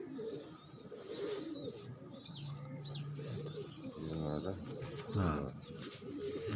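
Khal pigeons coo in a breeding setup, with low repeated cooing calls near and far, some wing flutters and faint chirps, while people talk briefly nearby.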